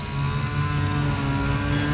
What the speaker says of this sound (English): Cars are flying by